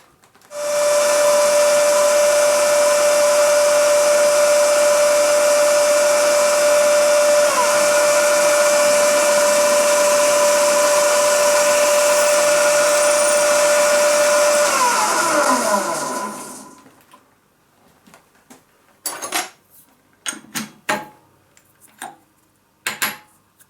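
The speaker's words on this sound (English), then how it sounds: "drill a 6mm hole here in the center" A loud, steady machine whine runs for about fifteen seconds with a sustained tone while drilling a 6mm centre hole, then cuts off, followed by a few scattered clanks and clicks.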